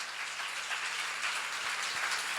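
A church congregation at a seminar applauds in a steady, dense wash of clapping that holds evenly throughout, with no voices standing out.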